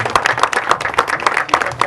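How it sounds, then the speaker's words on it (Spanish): An audience at an award ceremony for the Orden Gran Cacique Nigale claps in a brisk, steady rhythm, fairly close and loud, through a brief burst. "Y esos aplausos para el Señor Jesucristo, para todos aquellos que están contagiados"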